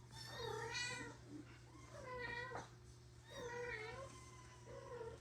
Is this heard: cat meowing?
yes